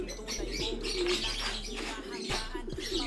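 Pigeons coo in low, throaty repeated calls close by, with a few soft chirps and a faint flutter in between.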